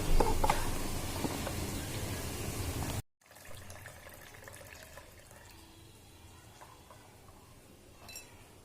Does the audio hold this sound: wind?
no